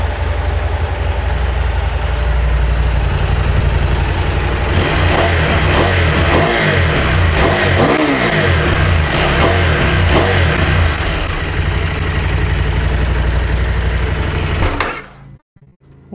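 Stock 2019 KTM 790 Adventure S motorcycle engine running loud and steady, with repeated revs swelling and falling in the middle before it cuts off abruptly near the end.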